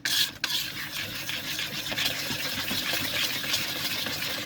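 Scraping around the sides of a container while making stamped Christmas ornaments, a steady close rasping rub that runs continuously with no talk.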